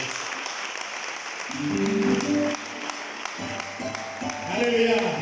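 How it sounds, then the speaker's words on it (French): Applause and cheering from an audience at a church seminar, steady clapping noise with organ or keyboard chords sounding underneath, moderately loud throughout. "Est-ce qu'on peut acclamer pour moi?"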